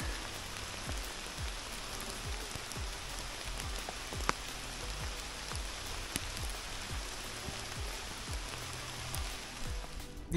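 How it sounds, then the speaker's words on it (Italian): Rain begins falling during a mushroom hunt for porcini, a steady patter of drops hitting surfaces that continues evenly throughout with a few sharper nearby taps and no talking. "Incomincia a piovere."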